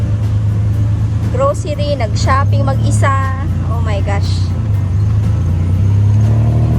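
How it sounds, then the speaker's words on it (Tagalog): Riding a tuk-tuk through Bangkok traffic, with a steady low motor drone and road rumble running throughout while someone talks over it. "Sakay na lang ako ng tuk-tuk."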